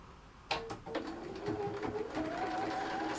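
Sewing machine chain piecing a quilt block, starting after a short pause with a few quick mechanical stitching bursts that settle into a steady whirring run, close by with no talking.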